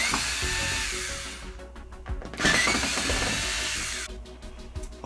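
A power screwdriver whines loudly and close up while backing screws out of the outer bezel of a 65-inch TCL 65S405 television, running in bursts with short clicking pauses between them and no talking.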